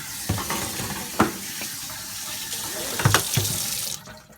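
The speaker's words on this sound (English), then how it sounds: "we can empty it out and wash it out really well so none of it is left" Tap water runs steadily into a sink while a bunny cage is rinsed out, with a few splashes and knocks against the pan before the flow cuts off.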